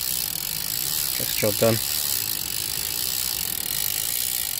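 A Zipp 302 bicycle freehub gives a steady, fast, light ratcheting buzz while someone speaks briefly over it.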